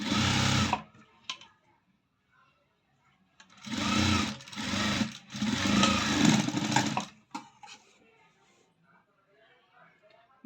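A sewing machine stitches a cross cut blouse in bursts, a short run at the start then two longer runs in the middle, with pauses between; speech is present alongside.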